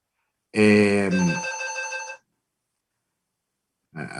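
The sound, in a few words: mobile phone ringing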